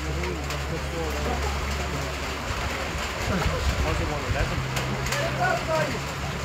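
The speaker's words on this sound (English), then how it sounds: "now it's the rain's coming down in Tubber" Rain falls steadily over an outdoor hurling match on a September evening in Tubber, Daingean vs Kilcormac Killoughey in 2021, a dense, even hiss while a commentator talks over it.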